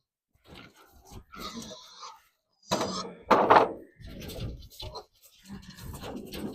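Dogs whine and squeak to be let out. High-pitched whimpers come in short, uneven bursts, with thumps and knocks in between, nearby and at moderate loudness.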